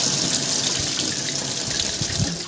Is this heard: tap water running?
yes